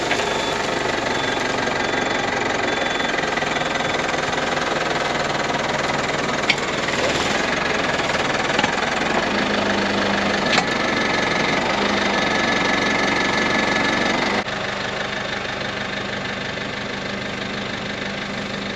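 A tractor engine idles and chugs steadily at close range in a hay field, with a constant rough rumble and an occasional faint clank.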